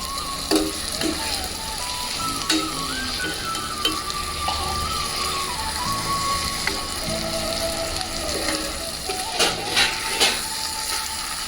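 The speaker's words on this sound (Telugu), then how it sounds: "మెల్లిగా ఈ పొడి కర్రీని ఎగ్స్తోన తిప్పేసుకుందాం" Onion powder curry with boiled eggs sizzles in a frying pan as a spoon stirs it, scraping and clinking against the metal in irregular strokes over a steady close frying hiss.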